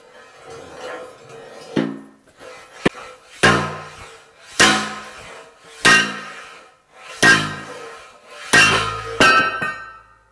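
A steel shaft being hammered out of a lathe setup with a piece of bar stock, about eight sharp metallic blows at a steady spaced rhythm, each ringing briefly, no talking.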